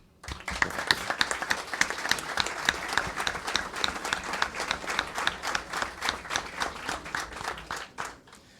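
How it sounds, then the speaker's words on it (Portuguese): An audience in the Chamber of Deputies hall claps together in a moderately loud, distinctly rhythmic round of applause, individual claps audible, fading out at the end. "peço uma salva de palmas."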